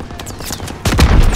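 Dense gunfire in Call of Duty WWII, a World War Two beach assault with rapid overlapping shots and booms, sparse at first then swelling into a loud, heavy barrage.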